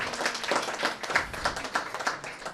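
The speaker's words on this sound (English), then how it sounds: "give them a big round of applause" Audience applause for the staff behind the Tradiciones 2021 section, a steady wash of many hands clapping at moderate volume with dense overlapping claps and no talk.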